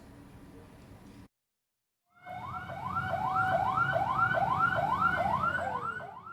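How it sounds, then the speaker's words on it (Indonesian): Fire engine sirens wail in a repeating rising sweep, loud and sustained, at a firefighters' protest in Palopo city, with vehicle and crowd noise underneath after a brief silent gap. "Bunyi sirene mewarnai protes petugas pemadam kebakaran Kota Palopo."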